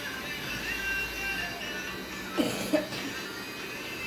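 A sick child gives two short, close coughs in quick succession in an otherwise quiet indoor room.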